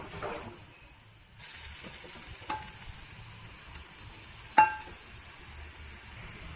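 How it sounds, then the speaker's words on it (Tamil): Masala paste sizzles in oil in a kadai for mochai masal, a soft continuous frying hiss with a few sharp clinks of a spoon against the pan, quieter at first before the sizzle rises again. "மசாலா வந்து எண்ணெயிலே ஒரு ரெண்டு செகண்ட் வேகணும்"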